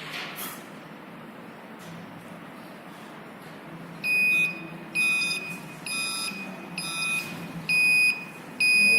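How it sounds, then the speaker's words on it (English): An LPG gas leak detector's buzzer sounds in a run of loud, piercing electronic pulses, about five bursts of uneven length with short gaps, following a few seconds of faint room hiss. "the buzzer buzzes until there is no LPG gas leakage."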